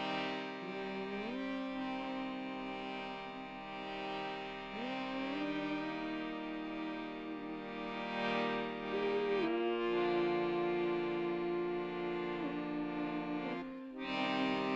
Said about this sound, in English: Let's together hum again.